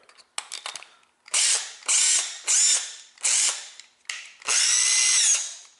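A Makita right-angle cordless drill runs in several short, loud whirring bursts close to the mic, with brief pauses between each trigger pull and a few ratcheting clicks at the start.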